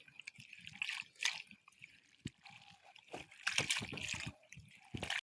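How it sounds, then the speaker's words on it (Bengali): Sechi shak leafy greens are swished and rinsed by hand in water, giving soft splashes, drips and sloshing in irregular bursts, close and fairly quiet, with no talk over it. "শাকটা আমি এখন খুব ভালোভাবে ধুয়ে নিব।"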